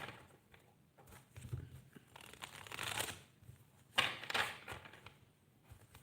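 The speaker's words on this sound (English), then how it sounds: "I'm just going to shuffle the Rider-Waite cards." Rider-Waite tarot cards being shuffled during a live tarot reading, giving repeated soft riffling and flicking bursts of paper cards at close range, a louder burst near the end, with no talk.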